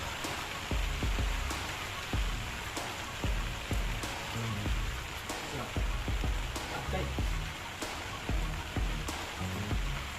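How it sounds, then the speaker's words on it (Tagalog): Heavy typhoon rain pours steadily, a dense hiss with sharp drip and splash hits punctuating it throughout. "Grabe yung ulan, walang tigil ah."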